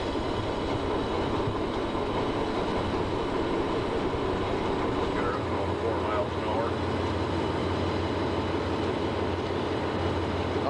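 Slack running in through the freight cars coupled behind a Conrail B23-7 locomotive: a continuous rumble of rolling cars with low clanking and rattling, heard from the cab under the engine's drone.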